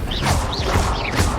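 A Reparo repair spell cast in Hogwarts Legacy, a short magical shimmer with rising whooshy tones and soft clattering thuds repeating three times over a low game ambience, with no talking.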